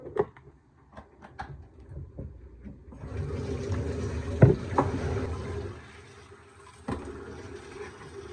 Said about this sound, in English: let me put all this water out